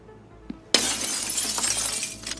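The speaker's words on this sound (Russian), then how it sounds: "Ёбаные стекла, где я столько стекол-то нахожу? Я ж разбил уже все." Glass windows shatter in the Escape from Tarkov video game, a sudden loud crash followed by a sustained spray of tinkling shards that fades after about two seconds, with no one talking.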